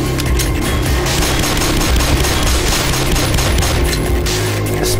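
Rapid, loud gunfire in the video game Black Mesa, dense overlapping shots and booms in a continuous barrage with no pauses.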